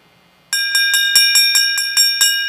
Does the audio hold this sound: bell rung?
yes